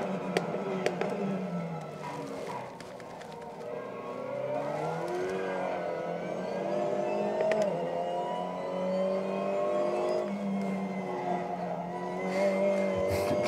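A car engine revs and whines through gear changes with tires hissing steadily underneath, a continuous synthetic racing sound from a racing simulator game, with no talking.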